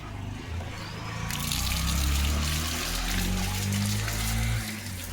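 Steady running water flows and splashes continuously at close range, with a low rumble underneath and no speech.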